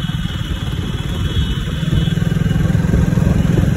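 A motorcycle being ridden through city traffic at night, its engine giving a steady, throbbing mid-pitched drone with a rhythmic pulse that grows stronger toward the end, continuous and close.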